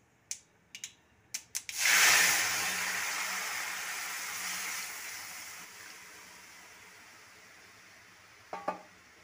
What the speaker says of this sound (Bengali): শুকনো লঙ্কা আর সর্ষটা দেওয়ার পর এর মধ্যে ডালটা দিয়ে দিচ্ছি।